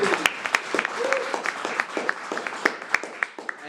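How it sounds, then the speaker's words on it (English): At a film premiere, the crowd gives a round of applause: a steady patter of many hands, with several sharp, close claps and whoops standing out, plus a brief voice underneath. "let's of course give him a round of applause."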